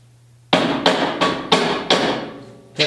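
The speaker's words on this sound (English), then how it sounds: "that's why you need the hammer" Six sharp metallic hammer taps on a chute-adjustment shaft of an Ariens snowblower in an uneven rhythm, each ringing briefly before the next strike, close and loud with no talking.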